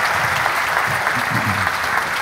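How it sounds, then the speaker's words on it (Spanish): An audience claps loudly and steadily at a talk on toxic everyday chemicals, a dense, continuous wash of applause close by with a faint murmur of voices underneath. "Fuerte, fuerte el aplauso."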